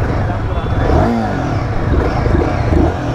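A Royal Enfield Guerrilla 450 motorcycle at a launch event, its engine running with a steady low rumble and a brief rev swell, close by, while someone talks over it.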